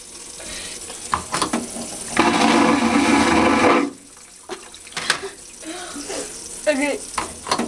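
Toilet on a cruise ship flushing in one loud rushing burst lasting under two seconds, preceded and followed by quieter clicks and handling noises, with people talking nearby.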